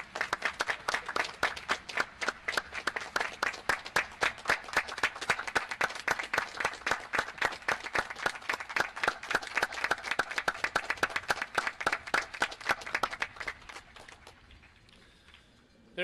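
A large audience applauds Admiral Rickover and Mrs. Rickover at the USS Nautilus 60th anniversary ceremony, a steady, dense run of clapping lasting over ten seconds before fading out abruptly near the end.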